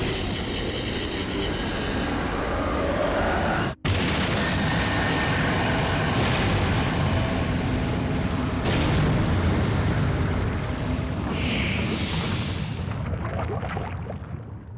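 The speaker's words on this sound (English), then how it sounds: "The ghost ship has a laser cannon." A ghost ship fires its huge laser cannon in Final Fantasy XIV, a loud, sustained roaring blast that rumbles on for many seconds, briefly cutting out once before tapering off with a hissing tail.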